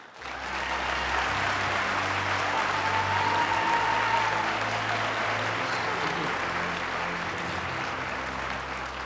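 An audience at the FCS CTAE Student of the Year Ceremony 2024 applauds to welcome a speaker, with sustained, even clapping from a large crowd that begins abruptly and holds loud for several seconds.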